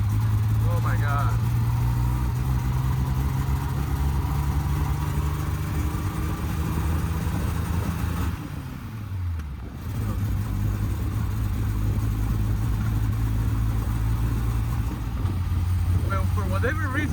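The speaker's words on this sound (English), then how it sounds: "Oh my God, she's misfiring." A 1970 Triumph TR6 engine runs rough and misfires up close, a steady low drone that dips and falters briefly midway before picking back up, with a person talking over it.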